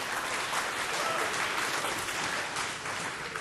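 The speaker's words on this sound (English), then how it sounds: "Short applause for Lawrence for having the guts to try it here in front of the audience" A lecture audience in an aerospace engineering course gives a short round of steady applause, dense clapping that fills the room evenly for a few seconds without talk.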